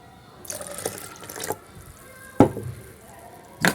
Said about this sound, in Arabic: بالنسبه للخليط ديالنا مازال غادي نضيف ليه شويه د الماء